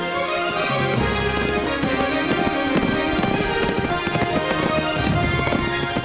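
Roman cavalry horses gallop in an audio drama, a loud dense rush of hooves pounding continuously alongside busy layered sound effects, with no talking.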